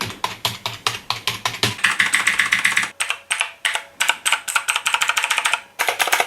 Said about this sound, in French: Passons maintenant au petit test pour voir le bruit des touches.